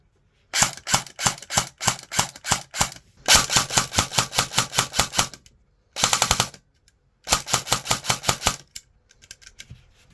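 A Specna Arms full-stock M4 airsoft gun firing full auto, in rapid mechanical bursts of clattering shots separated by short pauses, loud and close.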